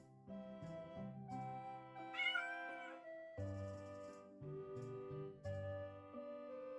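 A cartoonish cat in a video game meows several times in a row, tonal and whiny with rising and falling pitch, over a light musical backdrop.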